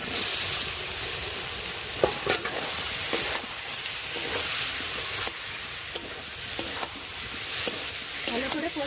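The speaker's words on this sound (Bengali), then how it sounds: "এবার সিদ্ধ করা এঁচোড়টা আমি দিয়ে দেব।" Boiled jackfruit stir-fried in hot spiced oil for a jackfruit and prawn curry: a continuous loud sizzle and hiss punctuated by repeated spatula scrapes against the pan.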